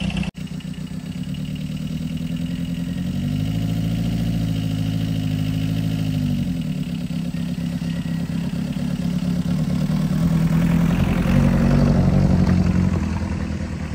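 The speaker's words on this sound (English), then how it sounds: "It doesn't look like it's running that smooth. And it definitely doesn't sound happy, but it is running." A rough, uneven engine idles steadily with a low, lumpy rumble that rises slightly in intensity toward the end, no voices.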